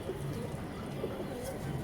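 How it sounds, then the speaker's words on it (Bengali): A pigeon coos softly nearby, a few low murmuring calls over quiet background noise. "এই যে দেখেন, এই একটা কবুতর"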